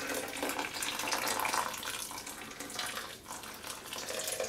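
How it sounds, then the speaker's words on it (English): Home-brew wort drains steadily from the bottom of a bucket during sparging in a continuous close trickling, splashing flow with no talking. "I am gently letting the wort out of the bottom of the bucket"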